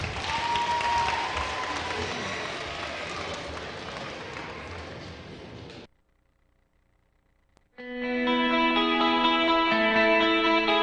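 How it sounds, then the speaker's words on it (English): An audience at a school Shark Tank event claps loudly for students in a dense, sustained burst that cuts off abruptly, followed by a moment of silence before loud music begins. "Let's give them another big round of applause"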